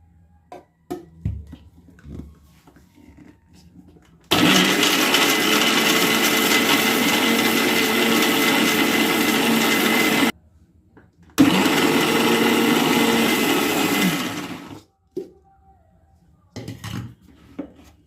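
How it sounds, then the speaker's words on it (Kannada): A mixie jar grinds chicken biryani masala into a coarse paste, two long loud bursts of steady motor whine with a short pause between, then quiet kitchen clatter. "ಮಿಕ್ಸಿ ಜಾರ್ಗೆ ಎಲ್ಲನೂ ಟ್ರಾನ್ಸ್ಫರ್ ಮಾಡಿಕೊಂಡು ಫುಲ್ ಕೂಲ್ ಆದಮೇಲೆ ಗ್ರೈಂಡ್ ಮಾಡ್ಕೋಬೇಕು."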